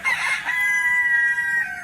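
A rooster crows once inside a chicken coop, a loud, close call that rises, holds a long drawn-out note and trails off, with no other sounds.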